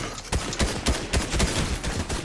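Rapid bursts of gunfire from a close-range Fortnite shotgun battle, sharp loud cracks arriving in an uneven rapid sequence, roughly eight shots crowding together.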